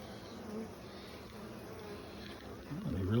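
Honey bees buzzing during a hive inspection while comb is being drawn out, a soft, steady drone that holds throughout, swelling a little near the end as a voice briefly comes in.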